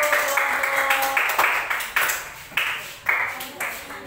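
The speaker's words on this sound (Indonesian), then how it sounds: "Tepuk tangan." Classroom students clap in several short bursts, with broadband claps separated by brief pauses and tonal ringing in the background; a voice speaks over the start.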